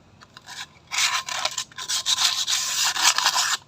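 Sandpaper rubs back and forth against a motorcycle brake shoe in close, loud rasping strokes, with short bursts at first and then a longer run of steady scraping.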